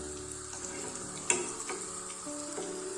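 Potatoes fry over a medium flame in a pan with a steady, quiet sizzle, broken by a few sharp clicks and scrapes of stirring.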